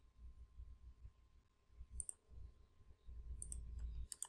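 A few crisp mouse clicks sound while a user works in AutoCAD Electrical software, one near the middle and a couple close together toward the end, over quiet low room noise.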